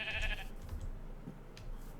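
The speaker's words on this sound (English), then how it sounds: "That's a sheep." A sheep in the Minecraft Enigmatica 2 modpack gives one short bleat at the start, followed by quiet near-silence with no talk.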